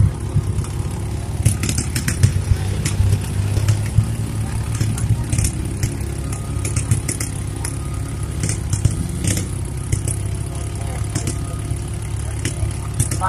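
A trail vehicle's engine with a sticking throttle runs continuously during trail riding in North Port, Florida, a steady close drone with small surges and rattles throughout.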